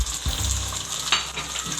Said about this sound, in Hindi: अब यहाँ पे हमारी मिर्ची ऐड करेंगे